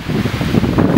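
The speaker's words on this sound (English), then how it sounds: "Oh, the wind is savage." Strong wind gusts roar across the microphone beside a small sea cove at high tide, a loud, continuous low rumble with no voices.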